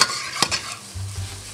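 Seafood and garlic fry in a pan for seafood risotto, producing a brief close sizzle with a quick stirring scrape near the start and a low hum underneath.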